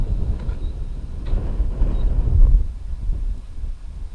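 Gusts of wind hit the microphone on a windy beach among rocks, a loud low rumbling buffet that swells and fades, with no voices.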